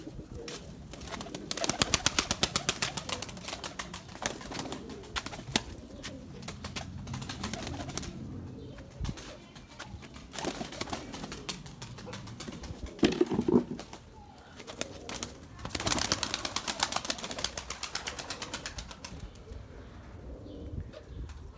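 Erzurum white breeding pigeons coo steadily in a loft through a long stretch, with overlapping throaty calls, occasional wing flutters and background noise, fairly close and moderately loud, no talk heard.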